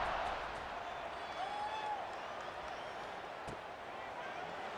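Stadium crowd in College Football 26 during a kickoff against Marshall, a broad, steady wash of cheering and roar from a distant crowd under commentary voices.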